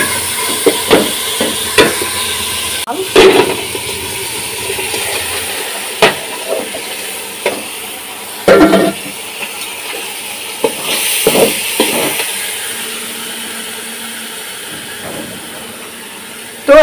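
Rice and lentils for khichuri stir-frying in a pan, a steady hiss and sizzle broken by repeated clattering scrapes and knocks of a spoon against the pan, loud and close.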